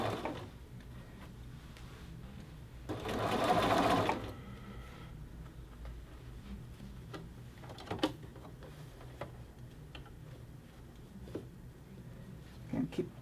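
A sewing machine stitches a shirt collar band in one short, loud burst of rapid whirring, followed by quiet clicks and handling noises while a person talks.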